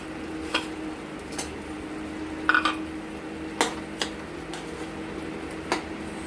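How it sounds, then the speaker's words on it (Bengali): Hilsa fish heads are broken up with a utensil in a pan of cooking taro greens, giving sparse scrapes and clinks over a soft, steady sizzle with no talk. "ইলিশ মাছগুলো একটু ভেঙে ভেঙে দিই"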